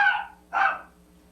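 A dog barks twice, two sharp, loud barks about half a second apart with quiet between them and a low steady hum underneath.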